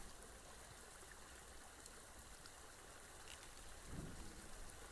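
Running water in a fishing video game makes a continuous soft rushing hiss like a stream, faint and steady, with a brief low thump near the end.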